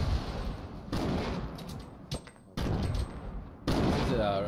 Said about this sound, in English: Those are grenades.